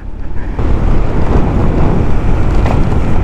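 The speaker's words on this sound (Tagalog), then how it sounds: "OMG, ang sarap ng hangin." Strong wind buffets the microphone while riding a Honda BeAT scooter on a mountain road toward Baguio, a loud, rough, continuous roar with no speech.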